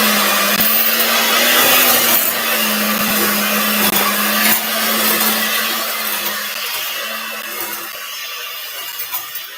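Electric hand mixer whirring steadily as it beats date sugar, tapioca and coconut flour together for a chocolate mint bundt cake batter, a continuous close motor hum with a slight dip in pitch partway through.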